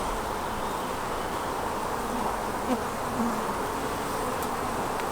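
Honeybees swarm around an old nuc box hive, a dense, steady buzzing drone close by with no talking.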